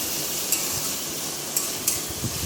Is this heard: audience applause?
no